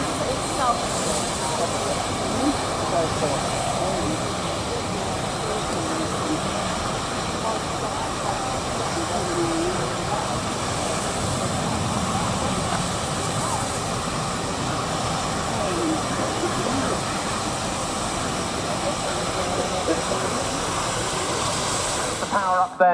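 Aircraft engines at an air show at RNAS Yeovilton power up for a takeoff roll, a steady broad roar that holds loud and even throughout with distant crowd and voices beneath.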